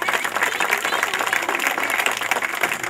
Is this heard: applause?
yes